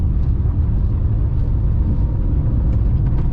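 A car engine rumbles steadily and close as the driver moves up through second and third gear, a continuous low drone with no other sounds.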